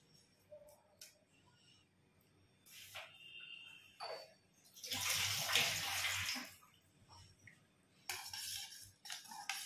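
Kokum water being strained while making solkadhi, heard as a faint trickle followed by a louder pouring splash midway and a shorter splash at the end, with light clinks of utensils.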